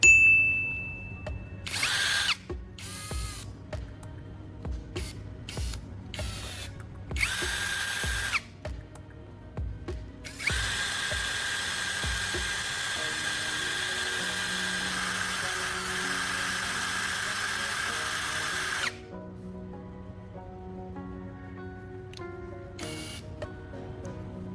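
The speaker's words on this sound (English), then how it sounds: "Remember to sharpen slowly and carefully to avoid breaking the battery core" An old battery core has its tip sharpened by a whirring power tool. Short bursts come first, then one long, steady grinding run, with handling noises around it and no speech.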